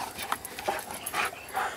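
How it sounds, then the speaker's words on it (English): Puppy outdoors near a cabin panting in quick, uneven breaths, close by and moderately loud, with a few faint whimper-like sounds mixed in. "you got a dog following."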